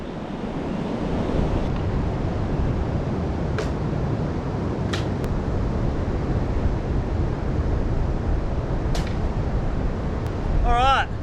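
Strong wind buffets the microphone with a constant roar, surf rumbling underneath and a few faint high squeaks cutting through.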